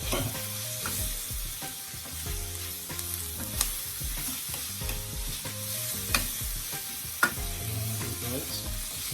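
Escovitch fish with herbs and powdered seasoning stirred in a frying pan, a steady loud sizzle with scraping utensil strokes and a few sharp clacks against the pan.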